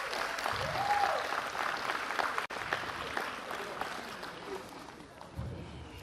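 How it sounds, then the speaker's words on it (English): Applause from a gathering at a political parties' electoral code of conduct signing event, moderate and continuous, with a brief thump partway through and some voices mixed in. "please, may I have a round of applause?"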